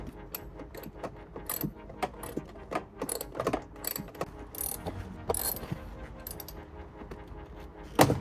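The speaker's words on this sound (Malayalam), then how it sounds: "14mm സോക്കറ്റ്, അതിൻ്റെ നട്ട് ഫിറ്റ് ചെയ്യുക." Ratchet with a 14mm socket tightening a door nut on a BMW 140i, giving rapid close clicking bursts in short uneven runs with brief pauses, alone with no talk.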